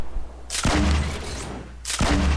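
Two loud, close bursts of gunfire and explosions in the Fortnite Battle Royale video game, separated by about a second and a half, with no voices over them.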